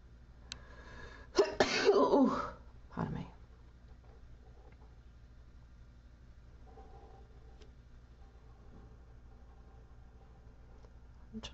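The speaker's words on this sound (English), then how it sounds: "Oh, I think I'm going to sneeze." A single sharp sneeze bursts out close up in a quiet room where someone is drawing, followed by a brief exhale, then near silence with faint background hum.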